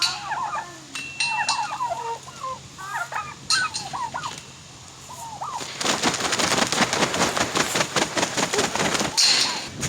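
Turkeys on a farm: several short gobbling calls sound close by, then a louder, denser stretch of flapping or rustling takes over the second half.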